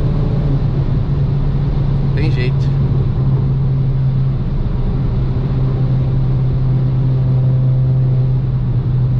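A tuned stage 3 Volkswagen Up accelerates on a highway, heard from inside as a loud, constant engine drone with road rumble, and someone speaks briefly over it.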